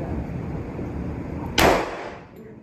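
A single sharp report from a .45 caliber pistol on a practice range, one loud crack after a stretch of quiet background that rings off briefly.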